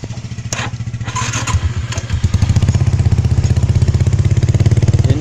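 A Suzuki Shogun 110cc motorcycle idles on its original, modified exhaust, putting out a loud, close, steady rhythmic putter with a slight clatter that settles into an even pulse.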